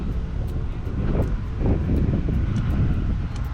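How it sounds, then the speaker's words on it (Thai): Strong wind buffets the microphone outdoors in a durian orchard, a low, continuous rumble with gusty swells that rise and fall throughout. "แต่ลมแรงจริงช่วงนี้"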